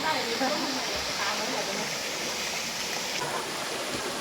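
Khlong Kaew waterfall in a Thai national park pours steadily, a dense, even rush of falling water that stays loud and unbroken throughout.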